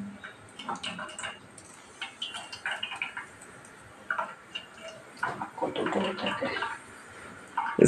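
Cooked bottle gourd being strained of its water in a home kitchen, giving an uneven trickle and splash of draining liquid with soft clatters, at moderate level throughout.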